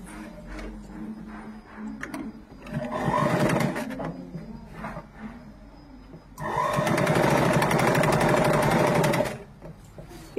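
Sewing machine stitching the folded back seam of a uniform shirt, running in two loud sustained bursts of rapid mechanical whirring with quieter pauses between.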